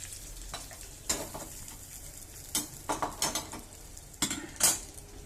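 Mustard seeds, urad dal and curry leaves in a hot tempering are poured into a ridge gourd chutney and stirred, giving soft frying crackle with several sharp clinks and scrapes of a utensil against the pot.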